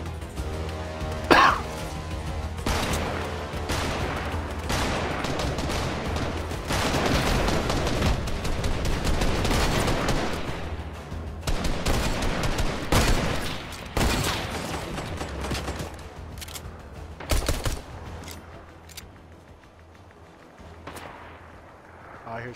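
Video game gunfire rattles through the scene in dense bursts of shots and booms, loud and near, sustained for most of the stretch before easing off, with a voice talking over it at times.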